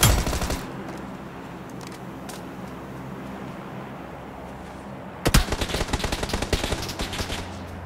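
Gunfire from a gun in the mobile battle royale game PUBG New State: a sharp shot at the start, a quieter stretch, then a rapid burst of automatic fire lasting a couple of seconds.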